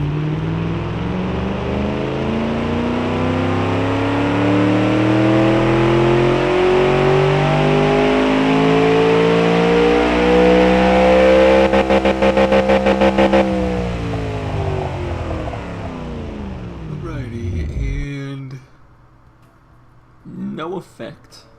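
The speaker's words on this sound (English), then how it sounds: "Sounds like a street car" A video game car engine in Automation revs hard and climbs in pitch for several seconds, loud and close, then cuts off abruptly near the end, leaving brief clicks and quiet.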